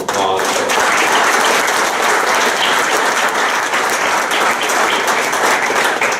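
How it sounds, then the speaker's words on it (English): An audience at a city council meeting gives a full round of applause, loud and sustained from start to finish, with some faint voices underneath. "if we can give them all a nice round of applause"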